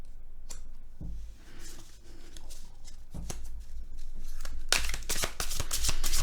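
Tarot cards are shuffled and handled close by in a tarot reading, with soft flicks and slides early on building to a loud, sustained riffle in the final seconds.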